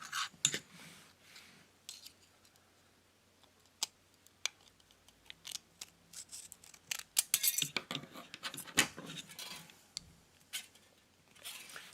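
Scissors snip through paper and tape while shaping a piece for a homemade 1994 ball point pen bearing project, a series of short sharp cuts scattered amid light handling rustle, close and fairly quiet.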